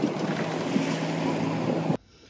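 A sailboat running under engine in light wind off Nazaré gives a steady, loud drone of motor, hull and wind rush that holds evenly for about two seconds and then cuts off abruptly.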